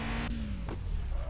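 A Porsche 930 fitted with a Supra engine starts and revs in Car for Sale Simulator 23, a steady loud engine drone that shifts pitch briefly.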